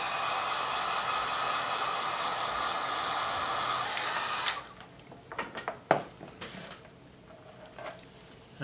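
A heat gun blows hot air onto a plastic spider-victim Christmas ornament, a steady loud rushing hiss for about four seconds before it cuts off, followed by quieter scattered clicks and taps.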